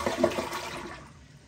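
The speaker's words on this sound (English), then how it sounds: "let's do the maiden flush here, the first flush," A newly installed toilet flushes for the first time with a brief rushing gush of water close by that quickly fades toward quiet.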